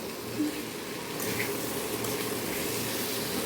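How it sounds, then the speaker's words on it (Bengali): Water is poured into a cooking pot of jackfruit curry, making a steady close splashing rush that strengthens partway through, with no voices. "এবার এঁচোড়টাতে একটু জল দেওয়া হলো যাতে এটা এবার সেদ্ধ হয়"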